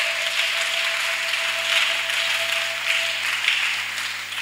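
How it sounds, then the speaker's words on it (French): Applause at a church gathering, a dense, even wash of many hands clapping that holds steady throughout, with a faint sustained tone in the background. "Acclamation."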